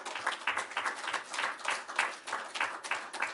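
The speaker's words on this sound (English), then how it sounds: "And an applause to Ukraine." Participants in an online workshop applaud, a short, uneven patter of several people clapping at once at moderate loudness, with faint room tone and no talk over it.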